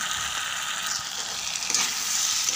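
Potatoes and drumsticks stirred in a pan of frying tomato masala for an Assamese drumstick curry, a steady close sizzle with spoon scrapes and shuffling, no talk.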